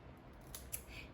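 Scissors cutting paper, a couple of quick crisp snips within a brief, quiet moment, close and alone with no speech.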